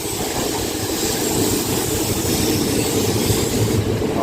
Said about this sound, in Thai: 254 นะกำลังจะเข้าจอดที่บ้านคูบัว